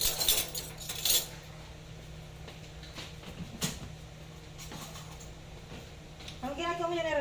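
A fork working through pancit bihon rice noodles in a pan, with a flurry of metallic clinks and scrapes at the start and end and quieter shuffling between, as a person talks over it.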